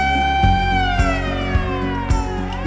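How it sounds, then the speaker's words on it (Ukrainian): A loud air raid warning siren wails with a slowly falling pitch, backed by evenly spaced low thumps about every half second, with no voices over it. "Коли ти чуєш повітряна тривога,"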